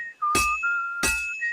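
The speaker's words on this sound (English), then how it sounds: "Now take the hammer and try hitting it a few times." Two bright metallic clanks of a hammer striking a sword on an anvil in Kingdom Come Deliverance II, evenly spaced about a second apart, each with a ringing tone over a sustained whistle-like hum, no voices.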